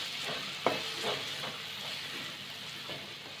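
Ground chili masala sizzles and fries in a pan for Goan-style stuffed squid, with a steady hiss and a few sharp stirring scrapes near the start, close and fairly quiet.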